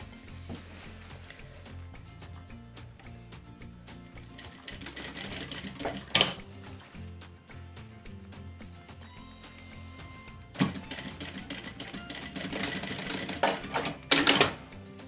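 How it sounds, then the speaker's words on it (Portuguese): A sewing machine stitches close along the edge of a backpack strap on a preschool animal backpack, running in steady mechanical bursts with a few louder thumps and pauses between passes. "vou fazer uma costura à beirinha"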